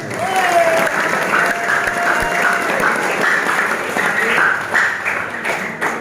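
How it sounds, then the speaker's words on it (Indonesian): Congregation at a Ramadan sermon in an Islamic boarding school in Garut claps for Damar, loud and close, with a voice speaking over the clapping. "Tepuk tangan untuk damar."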